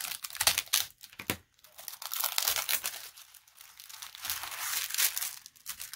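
Paper party invitations and envelopes handled close up, with repeated crisp crinkling and rustling in irregular bursts and brief pauses, no speech.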